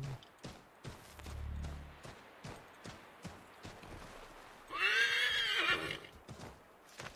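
A horse in Assassin's Creed III gives a loud, clear whinny lasting about a second, set against steady clip-clop hoofbeats and a low snort, with no talking.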